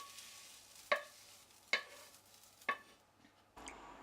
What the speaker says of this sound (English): Mix the sauteed mustard with the meat.